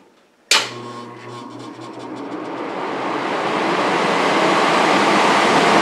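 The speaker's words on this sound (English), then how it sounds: "So when I turn this on, all three elements come on and the blower comes on." Homemade 15 kW electric furnace with three heating elements and a blower switches on with a sudden click, then a steady broadband fan rush builds and grows louder over several seconds, close and continuous with no talking.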